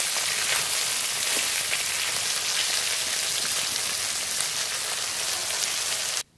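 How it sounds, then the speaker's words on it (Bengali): Bhola fish frying in hot oil makes a loud, steady hiss and crackle that holds evenly for about six seconds, then cuts off abruptly. "এই মাছগুলো খুব ভালো করে ভেজে নেব"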